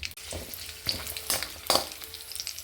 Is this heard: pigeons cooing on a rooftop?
no